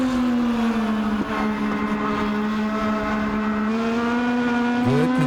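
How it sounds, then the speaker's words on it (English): Legends race cars circle a short oval track under green-flag racing, a sustained loud engine drone holding a steady pitch with slight waver as the pack runs together, a brief rising rev near the end. "Good, consistent green flag racing right now for your Pizza Hut Legends."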